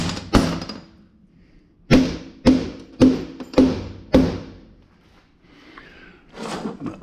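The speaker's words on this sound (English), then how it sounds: "So what I do is I take a hammer." A hammer strikes a resin-coated item on a workbench in a shop: one hard blow, a pause, then five sharp, evenly spaced knocks, each ringing briefly before fading.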